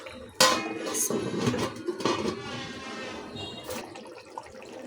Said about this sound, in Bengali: দিয়ে দিচ্ছি ঢাকনা